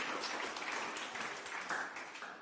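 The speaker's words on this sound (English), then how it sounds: "please join me in giving a round of applause to Eric" After a local lecture ends, the audience gives the guest speaker a round of applause, a dense, even wash of many hands clapping that stays faint and distant throughout.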